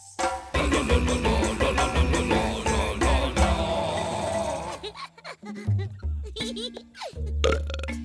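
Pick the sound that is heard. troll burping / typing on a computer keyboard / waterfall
troll burping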